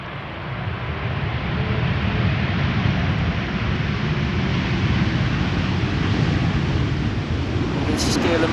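KLM airliner on flight 636 from Las Vegas arriving on the Polderbaan runway at Amsterdam Schiphol, a steady broadband engine roar rising in the first second and holding loud and continuous throughout.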